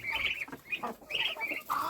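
Farm ducklings squealing in a run of high, shrill chirping peeps, several overlapping bursts close by with brief gaps, among chickens and other poultry.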